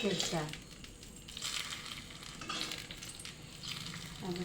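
Okra frying in oil in a pan, a soft, low sizzle with crackles and stirring that swell and fade in short bursts, while a voice talks over it.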